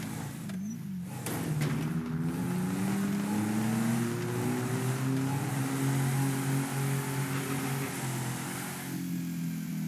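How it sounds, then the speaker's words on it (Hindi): Tata Nexon engine in GTA V starts with a brief crank, then a steady loud drone with rising and falling tones runs through as the car drives, close and alone with no talk. "तो चलिए हम इस गाड़ी का इंजन स्टार्ट करते हैं और ये गाड़ी आगे ले चलते हैं।"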